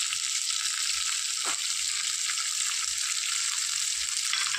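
Beans and carrots sautéing for semiya upma, a loud continuous hiss of frying in hot oil with faint stirring, heard alone without talk.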